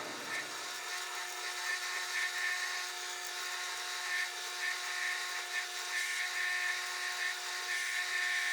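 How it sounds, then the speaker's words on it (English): A drill boring a hole out to 5/8 inch during a hydraulics upgrade, a continuous high-pitched whine that holds steady and close, with no talking. "drilling it to 5/8 will be fine."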